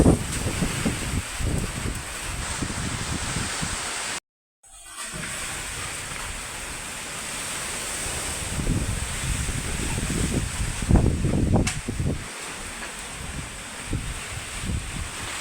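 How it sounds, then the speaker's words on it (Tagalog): Strong typhoon wind gusts roar steadily across the microphone with rustling and rushing bursts through banana trees, broken by one brief dropout partway through. "Grabe, ang lakas ng hangin guys."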